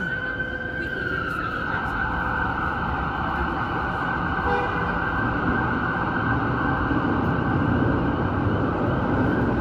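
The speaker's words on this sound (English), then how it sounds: "they could have the sirens at about half that volume and it would still be more than loud enough" Emergency vehicle siren wailing loudly on a downtown Toronto street in the evening, a piercing sustained tone that shifts pitch early on over heavy traffic rumble, close and continuous.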